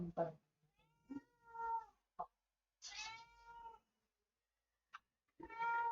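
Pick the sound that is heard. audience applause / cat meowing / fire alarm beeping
cat meowing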